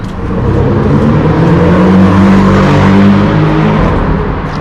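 A car rushes past at speed on a street in Russia, a loud, close whoosh of engine and tyre noise that swells and fades over a few seconds.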